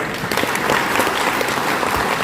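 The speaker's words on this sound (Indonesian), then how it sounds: "Berikan tepuk tangan." An audience at a trader training event for a sembako token project in Karang Anyar applauds, a brief burst of steady crowd clapping throughout with no talking.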